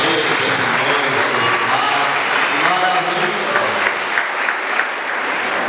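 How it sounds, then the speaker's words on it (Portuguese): A steady, loud burst of applause from guests at a wedding, many hands clapping without pause across the whole stretch, with crowd voices mixed in beneath. "Dá outra salva de palmas para ele,"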